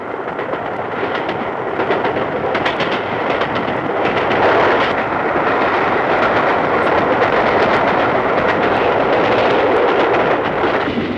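A steam train rumbles steadily along the rails with a dense, continuous roar and faint rhythmic clatter, loud and close throughout.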